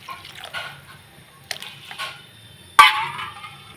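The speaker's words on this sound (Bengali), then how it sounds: "আর একটু অল্প করে জল দিয়ে দেবো।" Water is poured into fried spice masala in a pan while cooking rohu fish and potato kalia, giving a few soft splashing bursts and one sharper, louder gush near the end, with no talking.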